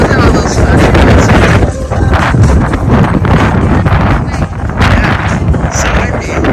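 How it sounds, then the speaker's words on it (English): Strong wind buffets the microphone in heavy, continuous rumbling gusts at an outdoor light show, with brief voices mixed into the roar. "Yeah, so windy."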